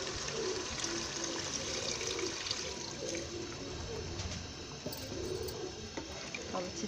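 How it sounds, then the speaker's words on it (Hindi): A glass of water poured into a pot of chicken and potato curry, giving a steady, close splashing and running-liquid sound that continues evenly throughout with no talk. "और अब हम इसमें ऐड करेंगे 1 गिलास पानी"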